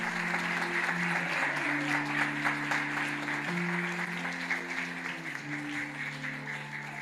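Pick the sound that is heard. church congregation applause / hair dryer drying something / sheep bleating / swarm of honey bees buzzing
church congregation applause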